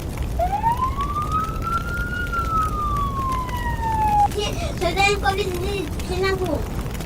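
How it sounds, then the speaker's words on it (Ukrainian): A single rising then falling siren wail sweeps across, followed by shorter warbling siren tones, with voices faintly underneath. "через декілька секунд діти почули сирену"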